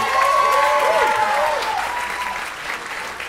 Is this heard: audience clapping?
yes